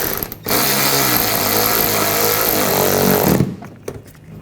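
A power tool tightening a screw on the engine splash shield of a 2014–2020 Nissan Rogue, a loud, close, continuous whirring run lasting about three seconds, followed by a few small clicks and taps.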